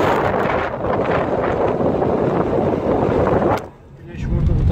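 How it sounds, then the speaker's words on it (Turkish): Heavy coastal wind at Palamutbükü, Datça, buffeting the microphone in a continuous low roar, easing briefly near the end before gusting back up. "Çok da güzel bir rüzgar esiyor şu anda."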